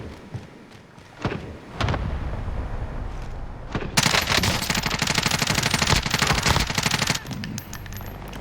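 Full-auto fire from a Groza rifle in Call of Duty: Warzone, a few scattered single shots first, then a long loud sustained automatic burst lasting several seconds, close and dominant with little talk.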